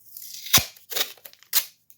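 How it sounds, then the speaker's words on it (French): Three quick bursts of crackly crumpling as stiff cardboard scraps are crushed and squeezed by hand into a ball, close up with short pauses between. "Je prends mes chutes de carton, j'en fais une boulette."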